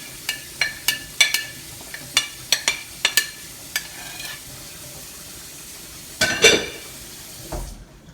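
Shrimp go into a pan of simmering Tuscan sauce with a soft steady sizzle underneath. Bright metallic clinks of a utensil against the pan come in a quick irregular series, followed later by a louder scraping stir, and nobody speaks.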